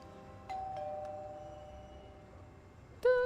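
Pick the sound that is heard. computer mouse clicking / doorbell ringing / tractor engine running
doorbell ringing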